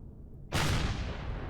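Turret fire erupts in the space-survival game Empyrion Galactic Survival, a sudden loud broadband burst after near silence that keeps rumbling on as a sustained, dense barrage.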